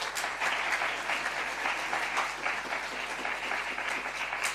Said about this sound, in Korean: 우리 재정부 장로님 전달할 때 박수로 격려하겠습니다